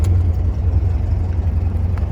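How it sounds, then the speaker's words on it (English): A Sand Pounder mini Mack car with an electronic fuel pump runs steadily, its engine a loud, close low rumble with a faint whir, with no clear cranking burst. "Car fires right up."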